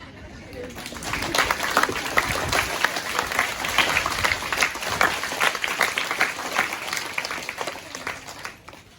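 A school presentation day crowd applauding its outgoing school captains, steady dense clapping that swells and holds for several seconds before easing off, with some voices mixed in.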